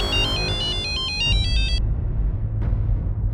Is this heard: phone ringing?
yes